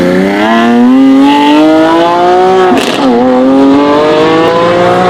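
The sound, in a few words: sports car exhaust revving loudly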